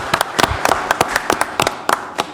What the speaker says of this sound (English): You can't see them, but they're applauding